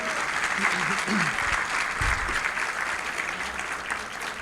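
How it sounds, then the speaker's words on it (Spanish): A church congregation gives a loud round of applause to welcome visiting guests, sustained clapping from many hands with a voice speaking over the opening moments. "Vamos a darle un fuerte aplauso"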